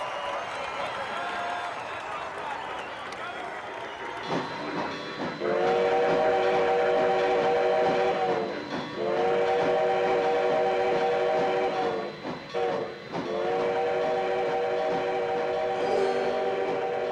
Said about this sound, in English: Neither does the commuter train riding on the elevated track above.